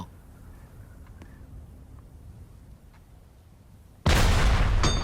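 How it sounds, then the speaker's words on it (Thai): A cannon fires in the Roblox video game: after a few quiet seconds with small clicks, a sudden loud, sustained blast erupts and fills the last second. "ยิงปืนใหญ่ได้นะฮะ"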